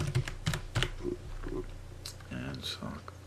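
Typing on a computer keyboard: a short run of quick, close key taps in an uneven rhythm, with someone talking over them.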